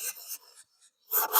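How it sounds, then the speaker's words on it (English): A 320-grit sanding block rubs along the edge of a 2012 Bullet Stratocaster guitar body, close and dry, in short rasping strokes separated by a brief pause. "It's a 320 block. I'm just kind of sanding down the edge of it."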